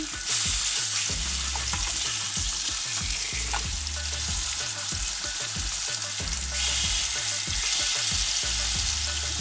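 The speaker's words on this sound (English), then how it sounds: "I'm just going to flip over our salmon" Salmon fillets frying loudly in a hot pan, a dense continuous sizzle and crackle, close and strong with a rhythmic underlying thump, no voices.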